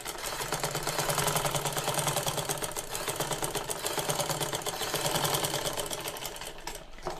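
Close, continuous whirring of a sewing machine stitching a cloth neck design, with a rapid regular pulse and slight swells in loudness throughout.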